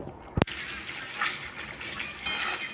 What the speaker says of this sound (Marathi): थोडं पाणी घालायचं आहे याच्यामध्ये